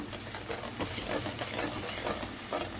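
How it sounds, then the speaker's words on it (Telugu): Onions with garlic, turmeric and a pinch of salt sizzle steadily in a pan for a potato chicken curry, a dense, continuous frying hiss with faint stirring scrapes, close-up and without speech. "ఉల్లిపాయలు పచ్చివాసన పోయి కలర్ చేంజ్ అయ్యే వరకు బాగా వేగనివ్వాలండి"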